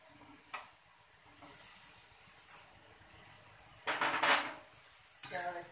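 Onions for pad krapow are stir-fried in a pan with a spatula: soft sizzling under repeated scooping scrapes and metallic clanks, with a loud burst of scraping and hiss near the end.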